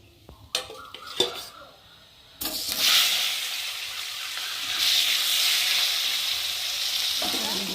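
A fish head frying in hot white oil in a kadai during a home cooking session, first a few clattering knocks, then a loud, steady, close sizzle and hiss that continues to the end.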